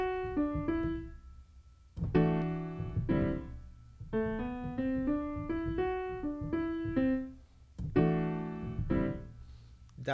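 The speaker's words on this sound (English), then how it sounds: "that's the sound of Dorian." A melodic phrase in the Dorian mode, played as clear, separate pitched notes in short runs with brief pauses, moderately loud and with no voices.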